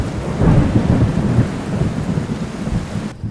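Loud thunder rumbles under a steady, heavy downpour, used as a thunderstorm effect in a horror story; the roar stays dense and continuous before cutting off abruptly at the very end.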